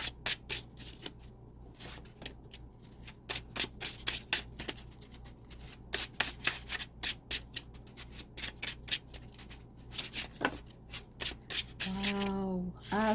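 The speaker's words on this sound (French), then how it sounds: "on va rebrasser" Tarot cards shuffled by hand in repeated crisp riffling bursts, close and fairly quiet, with brief pauses between rounds and a short vocal sound near the end.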